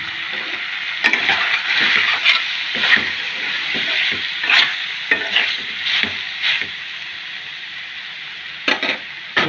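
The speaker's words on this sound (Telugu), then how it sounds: "టమాటా ముక్కలు అన్నీ అవన్నీ వేగిపోయినాయండి." Tomato pieces fry in a mutton gravy base, a steady close sizzle broken by irregular scraping and stirring strokes, no voices present.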